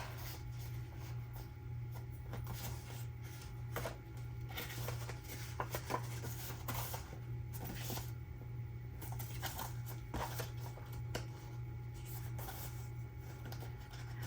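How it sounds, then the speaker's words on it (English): A stack of vintage Christmas cards being handled up close, with soft, intermittent papery rustles, slides and taps against a quiet background hum, faint and irregular throughout. "These are vintage Christmas cards that I pulled."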